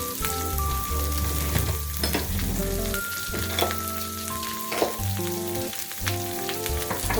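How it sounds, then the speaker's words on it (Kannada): Onions sizzle steadily in a hot pan, a loud continuous crackle with occasional stirring, close up and without talk, while tonal music plays underneath. "ಈರುಳ್ಳಿ ಚೆನ್ನಾಗಿ ಬಾಡಿಸ್ಕೊಳ್ಳಿ."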